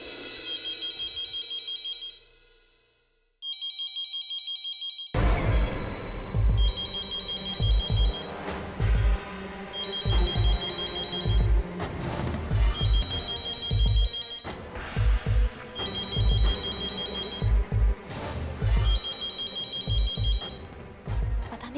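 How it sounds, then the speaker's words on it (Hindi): A telephone rings repeatedly in a Hindi TV drama household scene, a bright electronic ring in regular bursts over a loud background music score, with a brief quiet ringtone passage before the music enters; no talking. "किसका फोन होगा?"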